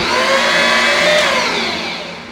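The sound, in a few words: electric mixer mixing egg into batter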